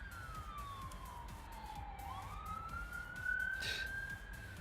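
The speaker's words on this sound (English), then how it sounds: "why does the siren always come?" A single siren wails in the distance, one long falling-and-rising sweep that is faint against steady background noise, with a brief brighter burst near the end.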